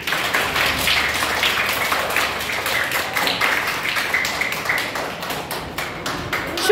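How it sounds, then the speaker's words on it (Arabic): A classroom of children applauds themselves loudly and steadily, a dense patter of many hands clapping together that continues without a break. No one speaks over the clapping. "صفقوا نفسكم قوي."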